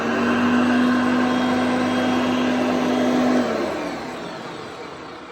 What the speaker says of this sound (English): And there's my Hoover Concept Two electronic.